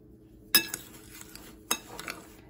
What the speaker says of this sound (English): So I'm gonna go ahead and mix up the crust.